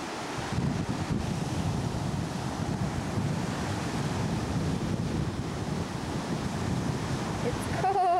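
Steady surf washing onto a Florida beach on a cold, windy March day, a continuous roar of breaking waves mixed with gusty wind buffeting the microphone, without pause for the whole stretch.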